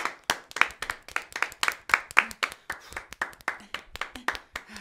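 Small audience clapping in a quick, uneven rhythm, many distinct close hand claps forming lively applause with occasional cheering voices underneath.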